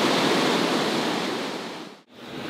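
Low-water falls on the Manigotagan River rush in a steady, broadband roar close to the microphone, briefly dipping near the end before resuming.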